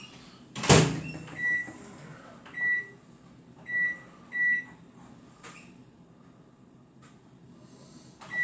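A microwave oven door thumps shut, then a series of keypad beeps sound as a cooking time of 3 minutes 30 is set and started, close and clear in a quiet kitchen.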